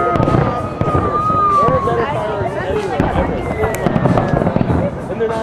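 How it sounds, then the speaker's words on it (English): Macy's Fourth of July fireworks exploding over the bridges in 2010, a dense barrage of booms and crackles with whistling streaks, loud and continuous, under the murmur of a surrounding crowd. "that's fucking fireworks"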